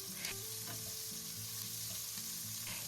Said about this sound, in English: Stir fry the onion for about 30 seconds.